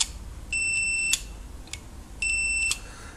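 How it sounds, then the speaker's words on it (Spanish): Two steady high-pitched electronic beeps from a multimeter on continuity test while checking a relay's contacts, each lasting about half a second, separated by a short pause, with faint clicks between them. "con el polímetro en escala de ohmios, en pitido, nos detecta que estamos cerrando el contacto"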